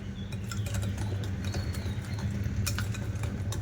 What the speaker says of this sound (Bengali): ব্যাটারটা বেশ ভালো করে মিশিয়ে নেব।